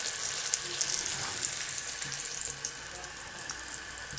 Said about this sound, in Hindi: तो अभी ये हम पराठा अपना इसके ऊपर डाल देंगे, और इसको हम थोड़ा सा घुमा देंगे ताकि पूरा घी लग जाए।